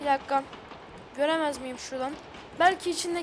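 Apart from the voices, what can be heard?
None of the usual background noises is heard.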